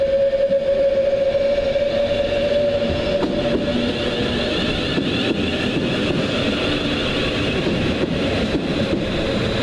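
A Merseyrail train passes close by, with a loud, continuous rolling roar of wheels on rail, faint clatter, and a steady high tonal whine that gradually fades.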